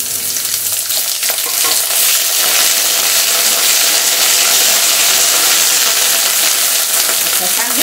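Loud, continuous sizzling and crackling of traditional Santhali food frying in a hot pan with garlic and ginger, close up, with occasional stirring scrapes.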